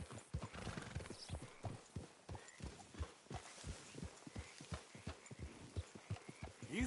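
Horse hooves clip-clopping in a steady trotting rhythm in Red Dead Redemption II, close and distinct, with a brief whinny near the start.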